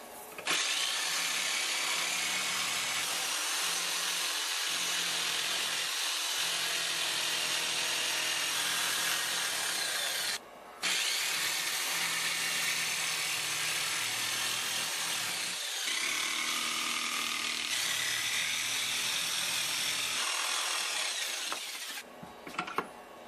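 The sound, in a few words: jigsaw cutting wooden parts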